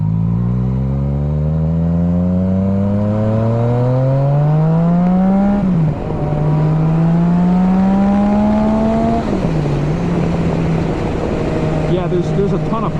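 A 2019 Yamaha XSR 900 motorcycle engine revs loud and close, its pitch climbing steadily through two gear changes with brief dips between, over rushing wind noise, with a voice briefly talking at the end.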